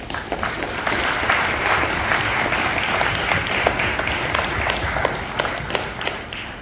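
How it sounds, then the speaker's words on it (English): Loud, sustained applause from a large audience, dense clapping that fills the whole stretch without pause. "give yourself a round of applause again just for being royal"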